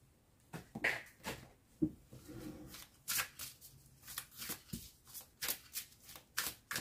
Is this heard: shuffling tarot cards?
yes